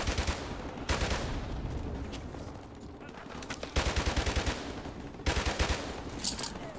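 Rapid automatic gun bursts in Call of Duty: Modern Warfare Remastered, several sustained rattling volleys of close, loud shots separated by brief pauses.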